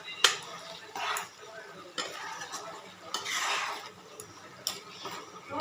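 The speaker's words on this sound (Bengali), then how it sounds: "এটা পুরোটাই দিয়ে দেবে। দিয়ে এবার নেড়ে চেড়ে নেবে" Butter being stirred in a cooking pan for a paneer and paneer kofta dish, with a spoon scraping and tapping the pan in uneven bursts over a soft sizzle.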